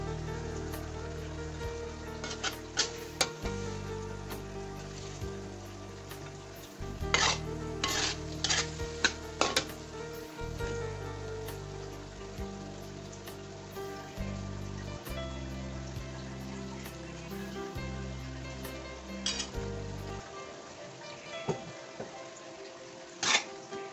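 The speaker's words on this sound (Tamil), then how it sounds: "இப்போ வெட்டி வச்சிருக்கிற வெஜிடபிள்ஸ் எல்லாம் ஒன்னு ஒண்ணா போட்டு கிண்டுங்க" A spatula stirs chopped vegetables in a pan while cooking chicken paprik, giving soft scraping strokes and scattered light clinks. The stirring stays quiet beneath a steady background of music.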